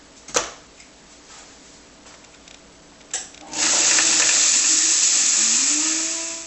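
Tap water gushing from a faucet to fill a container in a kitchen while making wheat bread, starting after a couple of clicks and clunks, then a loud steady rush continuing to the end.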